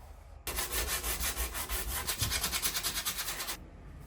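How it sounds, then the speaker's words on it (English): Hand sanding scrubs at a rusty patch on a Ford F150 truck's metal fender, a rapid rhythmic back-and-forth rasp that starts abruptly and stops after about three seconds, close and alone. "Oh, that's scary sanding away at the body of the truck."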